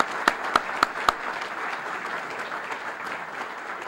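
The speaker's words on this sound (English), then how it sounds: "Let's give Frank a round of applause." An audience applauds during a county address, steady broadband clapping filling the room, with four sharp louder claps standing out near the start before settling into an even patter.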